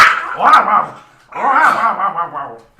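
A dog whining and yipping in two drawn-out, close, loud vocal bursts with a short pause between, whimpering and barking sounds indoors.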